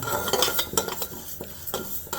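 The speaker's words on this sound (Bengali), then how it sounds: "তাই মুগ ডালটা আগে ভেজে নেব" Mung dal frying in a pan as a utensil stirs it, giving a series of close scraping clinks against the pan with a faint sizzle underneath, and no talking.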